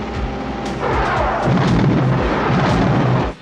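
Heavy booming blasts in quick succession, toy cannon sound effects like cannon shots layered over a rumbling background, loud and close.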